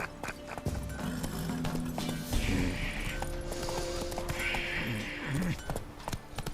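Horse hooves clip-clop steadily at a gallop in The Witcher 3, with a brief whinny and game ambience layered throughout.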